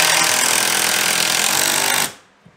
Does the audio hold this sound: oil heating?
no